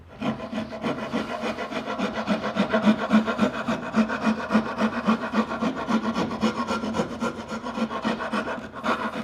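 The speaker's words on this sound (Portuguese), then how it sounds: "eu vou passar a grosa pegando as 2 linhas, bem na quina" A rasp files the corner edge of a wooden carving mallet in quick, steady back-and-forth strokes, a continuous gritty scraping close up with no voices.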